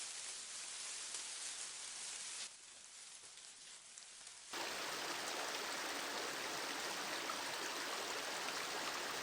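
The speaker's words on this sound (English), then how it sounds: "Rivers carved their way, and from the soil, green life sprouted." A river flows in a steady, loud rush of water that dips quieter for a couple of seconds, then returns stronger and continues evenly with no voices.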